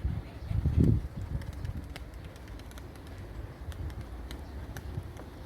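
White pigeons released outdoors, with a soft low coo or wing flutter building up early and then quieter rustling and faint bird sounds over steady background noise.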